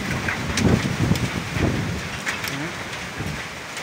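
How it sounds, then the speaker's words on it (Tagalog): Strong wind roars steadily across a rural fruit-growing area, a broad continuous rush with gusty swells, buffeting the microphone throughout. "Ang lakas ng hangin dito."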